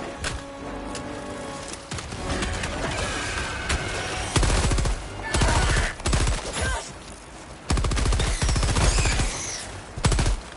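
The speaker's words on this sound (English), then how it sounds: "He walked right into that as I was firing my machine gun." A heavy machine gun fires in bursts in the shooter video game Helldivers 2, with loud rapid rattling volleys of different lengths separated by short pauses, and fainter background gunfire between them.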